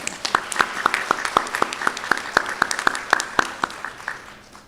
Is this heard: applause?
yes